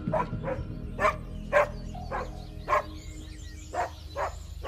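A dog barks about eight or nine times in an uneven rhythm, sharp, fairly close yaps separated by short gaps over a low background hum.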